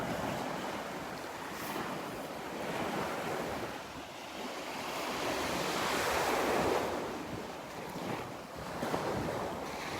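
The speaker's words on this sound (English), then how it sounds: "The sound of the waves." Ocean surf rolls continuously onto the beach at Delnor-Wiggins on a clear morning, a steady broadband wash of breaking waves with wind buffeting the microphone, swelling and easing without any talk.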